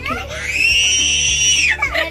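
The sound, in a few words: young girl screaming loudly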